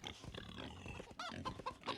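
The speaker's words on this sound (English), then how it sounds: "There's pigs there." Pigs oinking in the farming game Wild West Dynasty, a dense, continuous mix of grunts and squeals with a few higher calls near the end, fairly loud and close.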